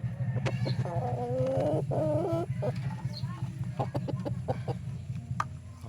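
A Rhode Island Red rooster on a small farm gives a run of close, throaty clucks and short warbling calls, several in quick succession, over a low steady background hum.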